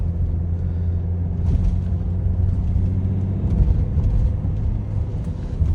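A BMW X5 3.0 diesel engine rumbles steadily at close range, a low throaty drone with no talking over it.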